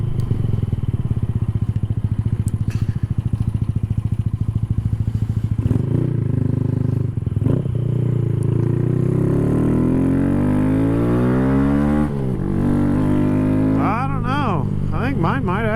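A Honda Grom with a high compression piston, cam and tune rides along, its small engine droning loud and steady, then revving up through the gears with rising pitch sweeps near the end.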